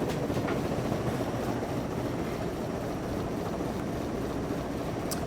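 An antique Emerson Longnose ceiling fan with steep-pitched, wide blades runs on high, giving a steady, broad whooshing drone of moving air with no breaks.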